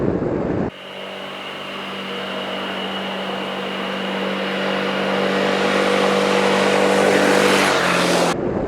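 A Honda Forza scooter on a mountain pass gives a smooth, steady engine drone that builds gradually as it accelerates, the hum continuous and close for several seconds before cutting off abruptly.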